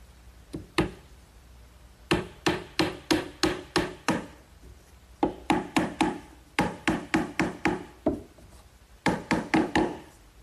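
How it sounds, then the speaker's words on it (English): Hammer strikes driving 4-penny finish nails into wooden sandbox framing, sharp close knocks landing in quick bursts of five to eight blows, each run separated by short pauses. "I'm just going to set these in place with some 4-penny finish nails."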